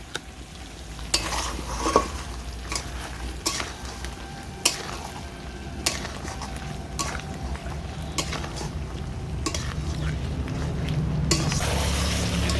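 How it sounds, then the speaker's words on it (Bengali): A ground cashew and melon seed paste is stirred slowly in a pan for chicken maharani, with a steady soft sizzle and repeated scraping clicks of a spoon against metal, close and alone with no talk. "মগজ দানা আর কাজু বাদাম বাটাটা আমি দিয়ে দিচ্ছি এবার এটা আমি আস্তে আস্তে নেড়ে চেড়ে নেবো"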